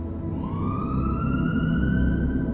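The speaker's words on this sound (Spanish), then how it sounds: "A lo lejos empecé a escuchar las sirenas de la policía" Police sirens wail from a distance, a steady rising tone held under a low rumble of traffic, continuous and moderately loud.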